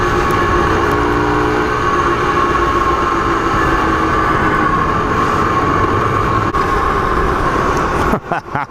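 A Yamaha DT50 motorcycle engine drones steadily while being ridden, close up and loud, with a constant mechanical hum and wind rumble that change little. The sound cuts to rougher buffeting noise at the very end.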